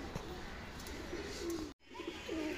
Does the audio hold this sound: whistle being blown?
no